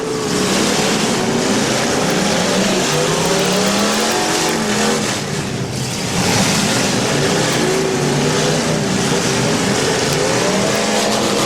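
A big demolition derby car, number 771, revs hard as it struggles to get moving at a fireman's festival derby, a loud continuous roaring engine with rising and falling pitch sustained throughout.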